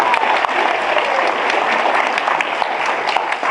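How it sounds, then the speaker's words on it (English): A seated audience gives a steady burst of applause at an 86th birthday celebration and roast, the clapping dense and loud throughout. "Give him a big old birthday applause"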